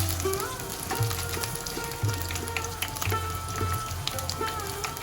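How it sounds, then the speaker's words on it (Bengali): Onions and green chillies frying in oil in a wok, a busy crackling sizzle with a steady low hum and scattered sharp pops, close and continuous. "আমি এগুলো ভালো করে একটু ভেজে নিব তেলের সাথে, যাতে পেঁয়াজের কাঁচা গন্ধটা না থাকে"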